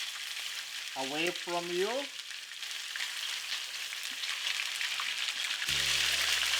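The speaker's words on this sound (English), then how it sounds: "Once the oil is hot enough, add the salmon pieces just so carefully." Salmon pieces frying in hot oil in a pan, a steady crackling sizzle that grows a little louder near the end, with a brief voice early on and a short tonal hum at the close.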